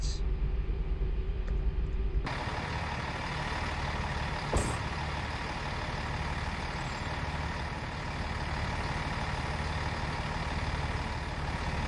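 Steady diesel drone from a Class 158 train's Perkins engine in a train simulator game, a constant low rumble throughout with a faint click early on.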